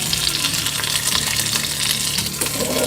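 Seasoned lamb shanks searing in a hot pot, a steady close crackling sizzle with no let-up and no talk.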